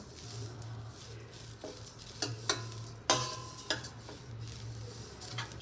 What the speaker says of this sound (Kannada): ಮೀಡಿಯಮ್ ಫ್ಲೇಮಲ್ಲಿ ಇಟ್ಕೊಂಡ್ಬಿಟ್ಟು ನೀಟಾಗಿ ಹುರ್ಕೋಬೇಕು ಈ ಥರ.